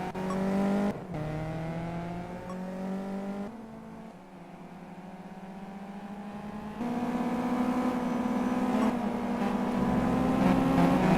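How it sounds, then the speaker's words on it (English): Race car engine in the Simraceway game dropping through gears, a buzzing drone that steps down in pitch with abrupt shifts before climbing again as it accelerates, loud and continuous with no talking. "Shadow Bounty really attacking those downshifts."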